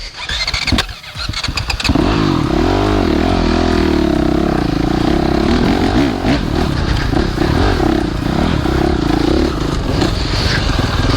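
A 2017 Honda CRF 450 motocross bike with electric start fires up after a brief starter clatter, then settles into a loud, close, steady idle with a throaty rumble that wavers slightly.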